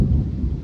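Thunder as a storm approaches near the River Kwai area of Kanchanaburi, a brief, loud, deep rumble with no voices.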